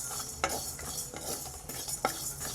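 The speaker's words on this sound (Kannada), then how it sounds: "ಈಗ 1 ಟೇಬಲ್ ಸ್ಪೂನಷ್ಟು ಧನಿಯಾ ಕಾಳನ್ನು ಹಾಕ್ಕೊಂಡಿದ್ದೀನಿ. ಇದನ್ನು ಸಹ ನಾವು ಫ್ರೈ ಮಾಡ್ಕೊಳ್ಳೋಣ" About a tablespoon of coriander seeds frying in a pan on a low flame, quietly sizzling as a spoon stirs and scrapes through them in soft, irregular strokes, close by and without talk.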